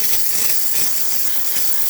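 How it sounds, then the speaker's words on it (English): An espresso machine's steam wand, on a freshly serviced Rancilio home machine, gives a steady loud hiss of pressurized steam running continuously with no talk. "let's use the steamer so we can test it out"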